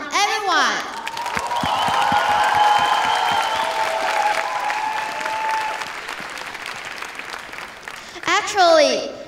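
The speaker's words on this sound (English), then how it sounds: "If I hear the big round of applause from everyone." A large audience of about 1,000 people at an opening ceremony of a global children's forum gives a big round of applause, dense clapping swelling and holding, with cheering and voices mixed in.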